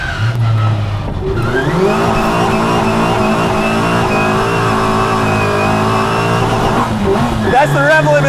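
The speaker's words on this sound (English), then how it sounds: "That's the rev limiter." A twin-cam 16-valve classic Mini Cooper engine screams against its rev limiter in a loud, sustained high-pitched drone that dips and surges near the end, with excited shouting from the occupants over it.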